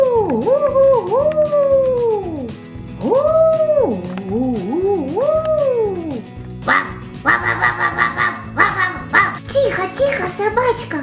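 A dog howling in a children's cartoon with toys, a series of rising and falling wailing howls close and loud, followed by sharper yelping barks.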